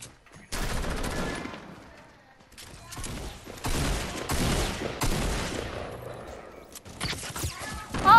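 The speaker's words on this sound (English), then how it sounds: "Oh, turret, watch out." Rapid bursts of turret gunfire rattle in a video game, loud and close, in several clusters separated by short lulls.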